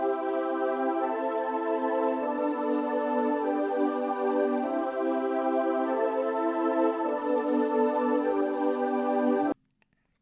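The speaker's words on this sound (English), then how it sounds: "we move to the VFX, which plays a preset called Very Breath from the VPC 103 cartridge." A sustained pad from the Very Breath preset on a VFX synth, loaded from the VPC 103 cartridge, plays steady, rich chords for about nine seconds alone, then cuts off abruptly.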